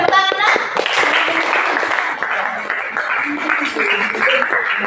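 A class of students clapping steadily throughout, dense and sustained applause close by, with a few brief tonal sounds at the very start.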